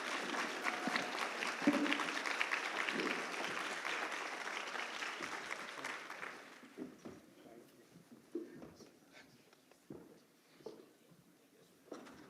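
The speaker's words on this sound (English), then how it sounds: "Let's give a round of applause for our panelists." Audience applause for a panel at a health summit, sustained and fairly full for about six seconds, then thinning to scattered claps and murmuring as it dies away.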